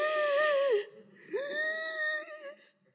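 A voice imitates heavy, nervous breathing: two drawn-out, wheezing, whimper-like breaths, each rising and trembling, close and fairly loud, with a short pause between them.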